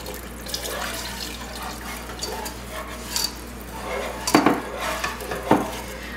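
One percent milk is poured into a flour and butter roux and stirred constantly, bringing liquid splashing and utensil clinks against the pot, with a few sharper metallic taps near the end.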